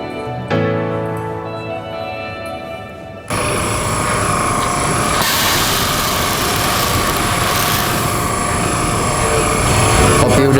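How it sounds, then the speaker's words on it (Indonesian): Coffee beans pour into a preheated roasting machine at about 160 degrees, a sudden loud rushing roar that replaces a quieter mechanical hum and then holds steady, close and dense, with no talk. "sekarang waktunya kita ngambil kopi dan masukin ke mesin."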